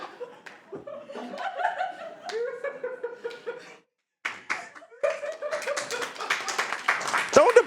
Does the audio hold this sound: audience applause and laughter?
yes